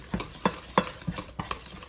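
A spoon stirs chocolate cake batter in a bowl, giving about five soft, evenly spaced scraping strokes close by with no talk.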